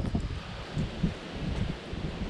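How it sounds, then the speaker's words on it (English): Steady wind buffets the microphone next to a flying drone outdoors, a continuous low rumble with gusting swells and no voices. "so windy for the drone today"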